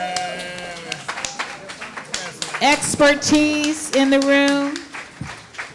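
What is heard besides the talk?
audience applauding the panelists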